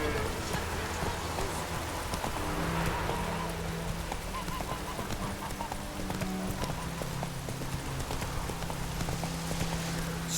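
Hoofbeats of the horse Roach in The Witcher 3, a steady clip-clop of a riding horse under continuous rain and outdoor ambience, fairly faint within a dense background.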